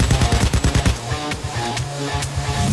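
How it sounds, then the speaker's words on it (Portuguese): Rapid bursts of automatic gunfire rattle out in the game Payday 2, fast repeated shots with sharp cracks and a steady electronic hum. "Ah, o Jim tá tomando tiro de novo."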